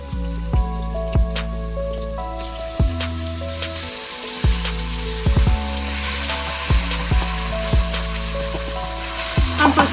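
Chicken fries for a Trini-style curry in a pot, a loud continuous sizzle broken by regular clinks and scrapes of stirring, with a musical tone running underneath.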